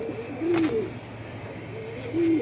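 Pigeons at a pigeon sale coo nearby in two short, soft, throaty bursts, one early and one near the end, over a quiet background hum with no speech.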